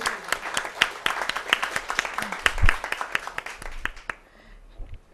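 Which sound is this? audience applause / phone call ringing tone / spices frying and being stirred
audience applause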